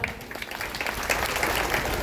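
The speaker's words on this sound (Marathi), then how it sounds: "एकदा जोरदार टाळ्या वाजवा ना यार" A crowd at a Home Minister game show event in Pune breaks into brief, steady applause, a dense patter of clapping filling the short clip.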